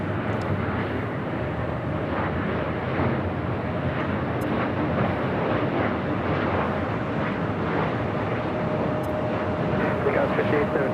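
A Boeing 737 in oneworld livery takes off at LAX with a loud, steady jet-engine roar that holds for the whole stretch, with faint voices underneath.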